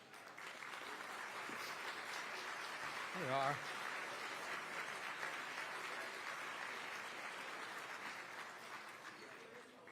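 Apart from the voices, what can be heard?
audience applauding young professionals at a policy summit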